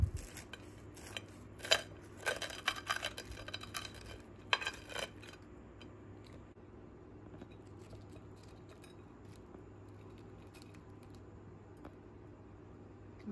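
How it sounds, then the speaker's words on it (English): A knife slicing through baked peanut butter and jelly pies on a plate, a burst of close clinks and scrapes of metal against dish in the first few seconds, then quiet room tone. "let's take them out and cut them through for the grand reveal"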